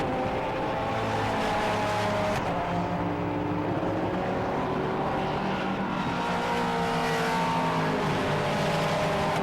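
Endurance race cars, including the number 13 Porsche, roar past on the Silverstone circuit in a steady, loud engine drone with layered harmonic whines, several cars close together, no voices.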